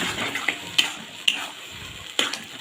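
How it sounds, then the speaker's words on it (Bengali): Spiced loitta fish frying in a pan over a medium gas flame is stirred, giving a quiet sizzle broken by a few sharp scrapes and clicks of the spoon. "এবার আমি নাড়ব গ্যাসের ফ্লেমটাকে মিডিয়াম করে"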